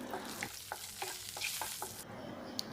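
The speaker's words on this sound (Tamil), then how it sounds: "இது எல்லாத்தையும் நல்லா கிளறி விடுங்க." Whole spices such as bay leaf, cinnamon, cloves and cardamom stirred in melted ghee for a biryani base, with a soft sizzle and a series of light scraping clicks from the spoon against the pan, close and without talk.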